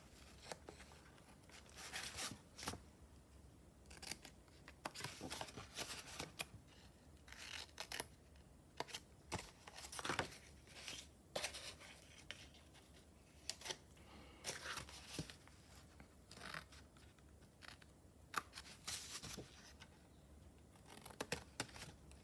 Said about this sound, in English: And now I'm gonna cut away the corners.